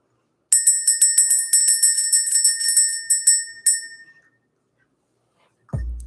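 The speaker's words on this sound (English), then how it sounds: "Let's ring the bell." A small bright bell rings rapidly and repeatedly for about three and a half seconds, used to clear energy, then its tone fades out and a low thump follows.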